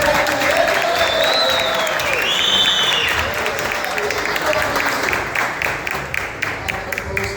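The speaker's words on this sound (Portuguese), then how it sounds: "Uma salva de palmas para o nosso" Crowd applause at a workshop in Fortaleza fills the space, steady clapping with some cheering, tapering into scattered claps toward the end.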